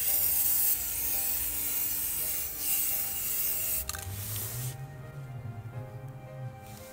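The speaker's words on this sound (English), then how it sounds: "I turned the black base into gold by spraying with metallic spray paint" Metallic spray paint hissing from an aerosol can onto a base, a steady broad spray sound for several seconds that stops partway, followed by quieter handling noise.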